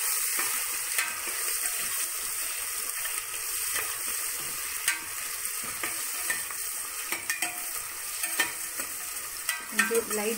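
Green chillies and onion frying in oil and being stirred in a pan for mushroom biryani, a steady sizzle running throughout with scraping stir strokes growing more frequent toward the end, no talk.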